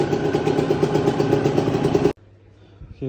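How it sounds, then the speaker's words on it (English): A two-stroke scooter engine idles after the carburetor idle air screw is adjusted, running steady and close for about two seconds and then cutting off abruptly into near quiet. "So now let's start. Let's see if it holds idle."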